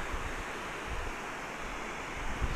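Water pours steadily over the weir at Ennerdale lake outdoors, a constant broad rushing roar with no breaks, fairly loud and close, mixed with some wind noise.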